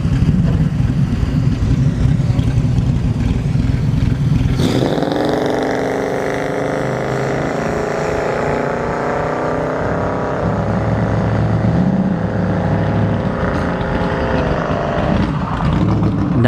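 An Oldsmobile Cutlass drag car launches down a dragstrip during a test-and-tune session, its engine suddenly rising into a loud, sustained roar that climbs through gears and holds steady before easing off.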